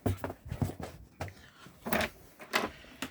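A bathroom door in a 2016 Swift Conqueror 630 caravan swinging open over a floor mat, giving a series of soft scraping, brushing and knocking sounds at an uneven pace, close by and moderately quiet.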